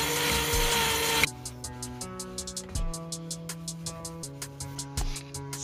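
Yamaha DT50 engine cylinder being honed with an oiled hone, a loud whirring burst of the powered tool followed by a fast, even train of light ticking scrapes over a steady tonal hum.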